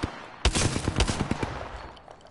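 Video game gunfire, a sharp opening shot followed by a rapid string of automatic bursts, loud and close, tapering off into quieter ambient noise toward the end.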